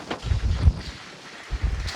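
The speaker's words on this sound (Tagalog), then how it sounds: "Ayan o, sobrang hangin." Strong wind gusts at a resort in Batangas buffet the microphone, making low rumbling bursts near the start and again toward the end, with quieter air in between.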